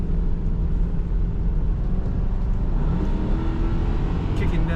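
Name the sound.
2002 Ford Thunderbird convertible driving, automatic transmission kickdown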